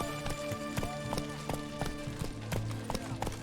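A horse gallops in The Witcher video game, with quick, rhythmic hoofbeats thudding steadily over a bed of sustained game music.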